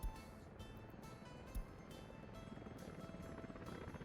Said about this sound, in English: So the helicopters are now getting the steel.